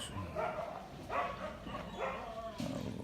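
A few short dog barks and yips in quick succession, fairly close, with faint whimpering between them.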